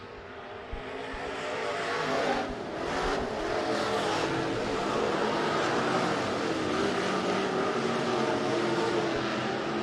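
B-Modified race cars roar down the backstretch at Rapid Speedway, a loud, dense, continuous engine drone that swells slightly as the pack passes.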